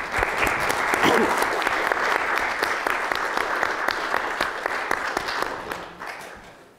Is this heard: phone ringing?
no